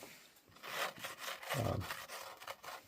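Wet fingers smooth the rim of a handmade primitive no-coil clay bowl, producing quiet soft rubbing strokes, close and faint, in uneven passes.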